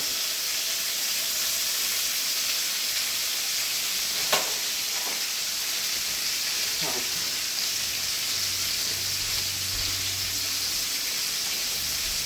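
Chicken breast frying in oil in a home kitchen pan, a steady bright sizzle and hiss throughout with a few sharp grease pops near the middle and a low rumble later on.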